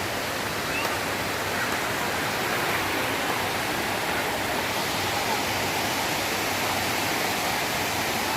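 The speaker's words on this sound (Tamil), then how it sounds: "ஒகேனக்கல் நீர்வீழ்ச்சி இது தாங்க ஃப்ரெண்ட்ஸ்." Hogenakkal waterfall roaring as a steady, dense wash of rushing water, loud and unbroken throughout with no other sounds standing out.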